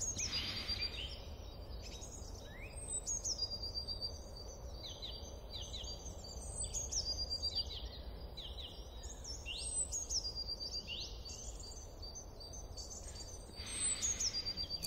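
Birdsong outdoors, scattered high chirps and whistled phrases repeating throughout over a soft low background hum, moderately faint.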